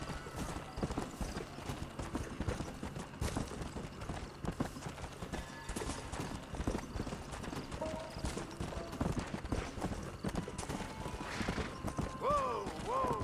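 Horse hooves clip-clop steadily in Red Dead Redemption as the rider travels over rocky ground, a continuous rhythmic trot mixed with game ambience and a brief whinny near the end.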